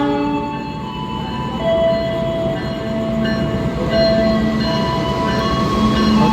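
A CC 206 diesel locomotive pulling into a station platform in Indonesia, a steady loud rumble of engine and rolling wheels with tonal hums and brief squeals, close by and continuous, no voices.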